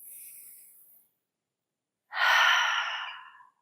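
A deep inhalation during a Hatha yoga moon sequence, one long audible breath close to the mic after a brief softer breath and a pause, with no talking.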